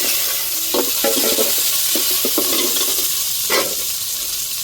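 Tomatoes and curry leaves go into hot oil in a pan for a fish curry, with a steady sizzle and a few brief stirring and scraping knocks, close by, with no voices.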